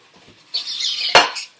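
Unboxing a new cookware set: a short clatter of metal pots and a lid being handled, with a brief louder clank near the end, close and alone without talk.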